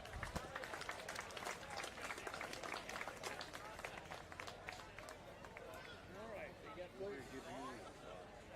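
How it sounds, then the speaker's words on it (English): A crowd gathered at a boat racing day in DePue claps for the DePue Men's Club, a brisk spell of applause that fades into chatter and an announcer's voice over the public address. "let's give a big round of applause to the DePue Men's Club"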